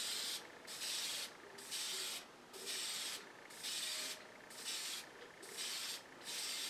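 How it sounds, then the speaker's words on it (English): Spray dye being applied to a small woodturned nativity figure, six even hissing bursts about a second long, each separated by a brief pause, close to the listener and steady in level. "I'm using spray dye."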